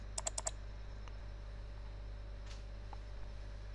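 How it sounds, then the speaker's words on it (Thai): A computer mouse double-clicking a setup file: a quick pair of crisp clicks twice at the start, then a faint click or two over a low steady machine hum. "ให้มาดับเบิลคลิกที่ Setup"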